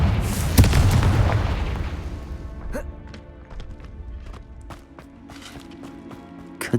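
Confringo blasting spell explosion in Hogwarts Legacy on Xbox Series X: a deep, loud boom bursts out early and rumbles away over a few seconds, followed by scattered light clicks and knocks.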